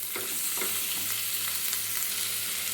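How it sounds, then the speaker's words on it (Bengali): Shrimp frying with turmeric in a pan, a steady close sizzle with a few soft scrapes of stirring throughout, no voices. "আমি অল্প করে হলুদ দিয়ে চিংড়ি মাছটা একটু ভেজে নেব"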